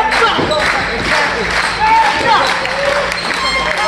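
A wrestling crowd cheers and claps steadily, loud and close, with a commentator talking over the noise.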